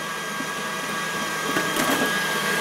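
An electric whisk whines steadily as it whips cream to stiff peaks for a banana cream pie, a continuous motor hum with a slight rise in the last second and no speech.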